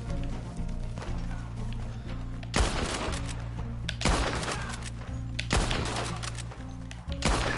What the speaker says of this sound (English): some of them only use explosive rounds